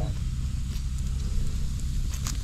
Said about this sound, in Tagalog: Ang lakas ng apoy mga kabayan oh.